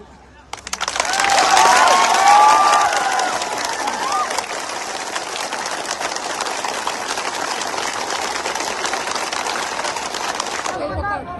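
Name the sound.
crowd applause at rally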